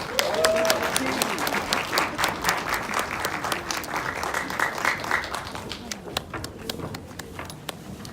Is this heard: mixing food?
no